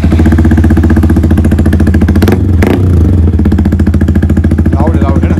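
A Yamaha R1M sportbike fitted with a loud Akrapovic aftermarket exhaust idles and blips close by, a deep pulsing engine drone with a brief sharp rev burst partway through.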